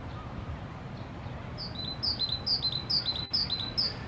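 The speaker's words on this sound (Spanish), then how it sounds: "Pito real ibérico." An Iberian green woodpecker gives a run of about seven sharp, evenly spaced call notes in a steady rhythm. The calls are fairly close and clear over a soft, constant background hiss.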